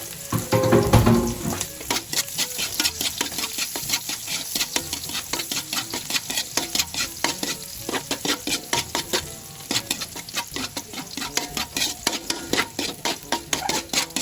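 Onion and garlic sautéing in a pan, added after ginger, with a steady close sizzle and rapid rhythmic scraping of a utensil stirring throughout, loudest at the start.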